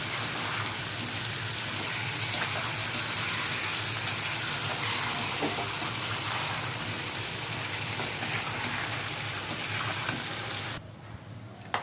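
Khichuri ingredients sautéing in a home pan for lunch, giving a steady close sizzle and crackle with faint stirring that runs unbroken for most of the clip, then cuts off abruptly near the end.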